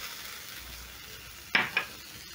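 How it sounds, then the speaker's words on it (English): Chopped onion stirred into hot oil left from shallow-frying Smokies sausages: a soft, steady sizzle with two short, sharp bursts of spatter and stirring near the end. "Stir in the onion"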